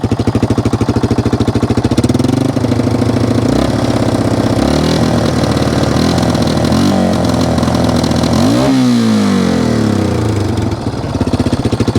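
A Yamaha Wolverine ATV engine running rich and flooding with too much fuel idles steadily and loudly up close, with a dense, uneven throb and small wavers in pitch, and a brief revving dip near the end.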